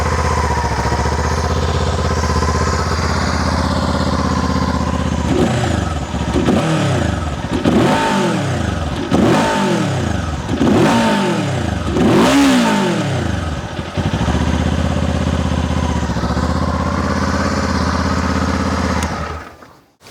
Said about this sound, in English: we'll start the bike and this is what it sounds like. It sounds like any other Euro 5 ruined bike